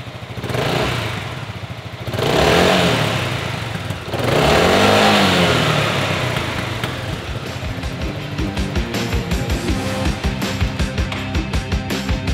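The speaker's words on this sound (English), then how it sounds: "The exhaust was quite quiet. Let's have a listen." A Honda ADV350 scooter engine revs up in two surges, then settles into a steady putter as it rides along, its stock exhaust fairly quiet and close.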